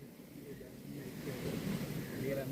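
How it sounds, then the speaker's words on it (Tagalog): Strong waves on a lake at a campsite during a storm, a rolling surf-like rush mixed with gusting wind buffeting the microphone, building louder toward the end. "ang lakas ng alon"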